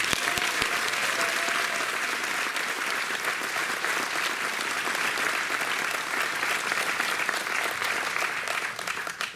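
Audience applauding as Heidi Hall is welcomed at a Grass Valley, California event, a dense, steady roar of clapping from a large crowd that fills the whole stretch.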